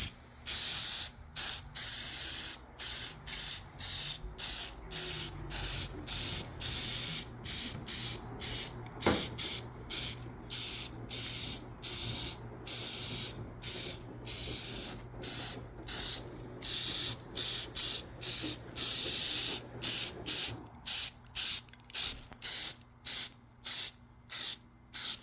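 Rust converter sprayed from an aerosol can onto a 1996 Jeep Cherokee XJ in short, rapid, repeated hissing bursts, close and steady throughout with no talking.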